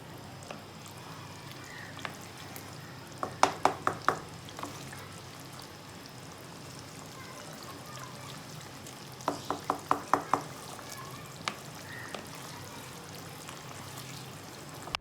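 Chicken karahi is stirred in a pan over a soft, steady sizzle, with two brief bursts of quick metallic scraping clatter amid faint background noise.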